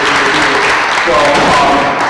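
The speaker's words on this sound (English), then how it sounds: "they deserve a round of applause for sending their kids here" A school audience applauds the parents at a State of the School address, steady dense clapping filling the room, with a voice speaking over it.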